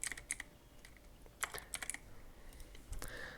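Keys clatter on a computer keyboard in quick, quiet bursts, close by with pauses between clusters.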